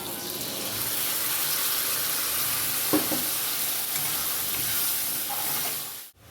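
Potatoes, onions and tomato fry in a pan as spices go in, giving a steady close sizzle with a few scraping stir sounds, ending abruptly.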